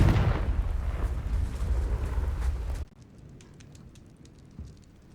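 A Confringo fire spell explosion in the video game Hogwarts Legacy bursts as a loud, roaring blast that rumbles for a few seconds, then cuts off abruptly into a quiet background with faint clicks.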